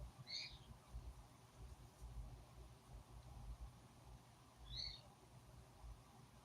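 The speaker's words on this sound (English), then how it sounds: "I'm just sitting here listening to the birds squawk." Outdoor birds give two brief, faint squawking calls several seconds apart over a low, steady background rumble.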